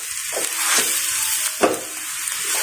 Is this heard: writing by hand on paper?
no